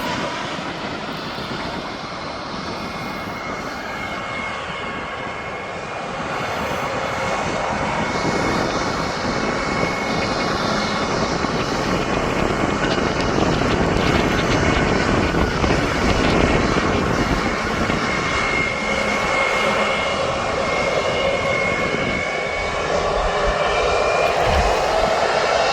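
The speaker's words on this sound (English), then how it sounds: "Now this Turkish flight is now coming out." A Turkish airliner departs Birmingham Airport, its engine roar building from a moderate rumble to a loud, sustained wash of noise with broadband whine that holds steady as the aircraft passes, with no voices.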